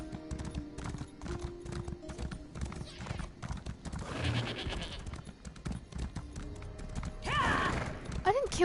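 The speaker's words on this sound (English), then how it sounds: "I love the sounds of horses." Horses in The Elder Scrolls Online clop along steadily while neighs and whinnies rise midway and near the end, mixed with bleating livestock sounds and game ambience.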